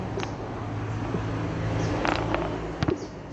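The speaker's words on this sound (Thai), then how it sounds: "ลองดูการฉีดโฟมกันนะครับผมนี่เลยครับผม" High-pressure foam sprays from a coin-operated car wash machine that uses no air pump: a steady, loud hiss runs throughout, with a few brief knocks toward the end.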